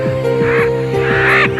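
Seabirds such as terns and gulls on a coral cay cry for food, harsh repeated calls overlapping in a dense, loud, close colony chorus.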